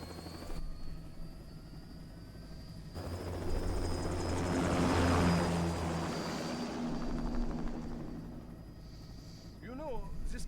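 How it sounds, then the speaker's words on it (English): Aircraft in the video game Metal Gear Rising: Revengeance taking off, an engine roar swelling to a loud peak and then fading, with voices over it. "Commencing takeoff in semi-auto mode."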